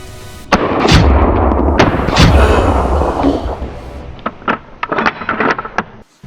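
Hunters fire guns from an elevated spot at a wild boar of nearly 200 kg, with loud booming shots and rumbling echoes early on, followed by a quicker series of sharper cracks near the end.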